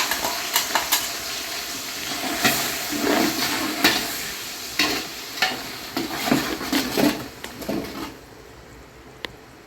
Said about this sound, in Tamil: இப்போ நம்ம இதை அரைச்சி வச்சிருக்க புதினா, கொத்தமல்லி, இஞ்சி, வெள்ளைப்பூடு, சின்ன வெங்காயம், பச்சை மிளகாய் எல்லாமே மிக்ஸ் பண்ணி வதக்க போகிறேன்